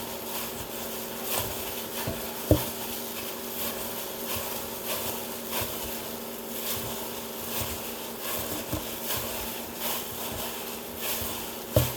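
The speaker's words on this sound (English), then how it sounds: "So I'm just going to aggressively mix this, and you'll see at the end." Ube shortbread cookie dough being mixed hard by hand, a continuous rubbing, scraping texture with a few sharper knocks, close and fairly quiet.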